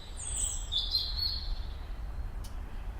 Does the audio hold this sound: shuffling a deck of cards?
no